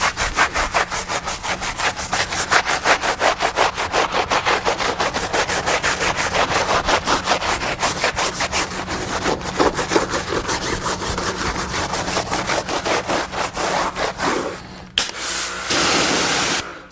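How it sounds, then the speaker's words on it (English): A brush scrubbing the tires of a Ford Raptor during a decontamination wash, with fast, rhythmic back-and-forth strokes that are loud and close and continue for most of the clip, followed by a short spray-like burst near the end. "let's do a little scrub on the tires here"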